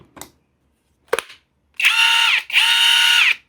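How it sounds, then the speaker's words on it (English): Harbor Freight Hercules brushless compact 1/2 inch impact wrench: two soft clicks, then two sustained whirring bursts of free-running motor, close and loud, with a brief gap between them. "is pretty incredible for a compact 1/2 inch impact wrench"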